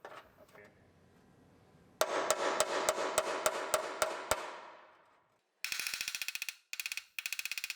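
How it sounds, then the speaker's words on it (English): Hammer blows ring out against a car bumper on a 2012 Acura TL AWD while kinks are worked out, a regular series of sharp metallic strikes followed by a faster burst of rapid hits, close and loud. "So we'll just hammer all the kinks out all the way around."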